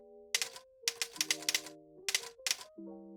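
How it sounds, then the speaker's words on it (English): Typewriter-style sound feedback from a ROCCAT Vulcan 2 Mini keyboard while typing: several bursts of clacky keystrokes, each followed by a short tonal chime, fairly close and with no talk over it. "I just selected the typewriter sound, and I guess when you type, it makes a noise."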